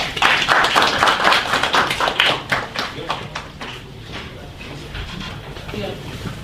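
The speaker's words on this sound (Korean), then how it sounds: "박수 주십시오." Audience applause for a patent and trademark law firm's head as she is introduced at a seminar on patent and trademark strategy for Kickstarter. Dense, loud clapping fills the first few seconds, then thins and fades.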